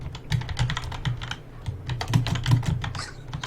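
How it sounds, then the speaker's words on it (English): Fingers tap rapidly on a computer keyboard in irregular bursts of close, crisp clicks with short pauses between runs, no voices over them. "Sounds like both of us typing at the moment."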